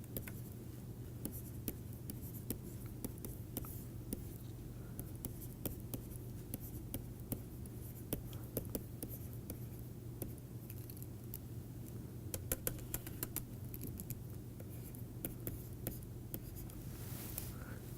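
Chalk or pen writing by hand during an engineering lecture on internal forced convection, a steady scratchy stroking close by and faint, running continuously over low room hum without speech.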